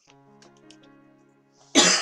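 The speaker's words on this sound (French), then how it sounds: "Bien entendu, je tousse, c'est normal." Quiet background hum and faint sounds, then one sudden loud, harsh cough bursts out close up at the end.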